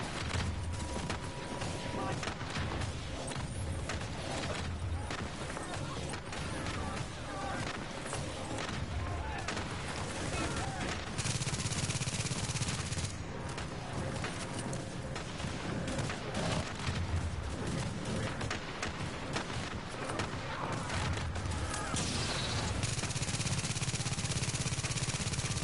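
A mortar barrage and gunfire fill a battle in the video game The Division, with continuous loud booms and rapid shots throughout under shouted voices.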